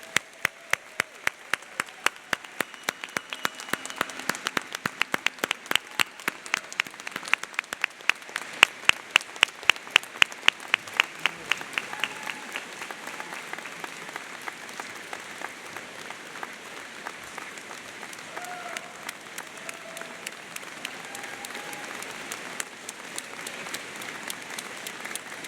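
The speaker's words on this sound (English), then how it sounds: "Give yourselves a round of applause." Sustained applause from a large commencement crowd for a graduating class, with dense clapping that is loud and steady at first, then thins into a softer, scattered patter with faint murmuring voices near the end.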